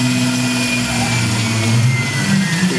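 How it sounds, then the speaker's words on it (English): Tormach PCNC 1100 CNC mill taking a light cut with an 8 flute cutter at reduced RPM, heard as a steady, loud mechanical hum and whine with low tonal drones throughout, no talking. "Barely make out the sound of cutting."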